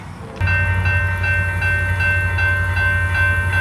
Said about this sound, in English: Oh goody, our train's coming back.